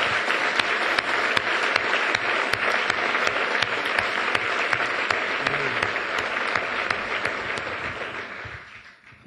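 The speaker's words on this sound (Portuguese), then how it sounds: "aplauda o Senhor" Church congregation breaking into dense, loud applause, a sustained rattle of many clapping hands close by that holds steady for several seconds before tapering off at the end.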